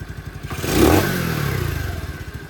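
The small engine of a CT70 clone minibike with a Nibbi carburetor revs up quickly, close and loud, then holds a steady, slightly uneven idle with no bogging.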